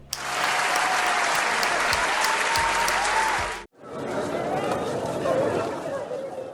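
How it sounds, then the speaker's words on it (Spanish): Studio audience applauding loudly and steadily at a comedy show taping, with a brief cut midway before the clapping resumes, dense and sustained throughout. "Un aplauso."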